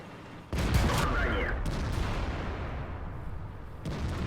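A tank shell strikes the player's tank in World of Tanks with a sudden heavy impact, followed by a sustained rumbling roar of engine and battle noise with a metallic ring, then a second thump near the end.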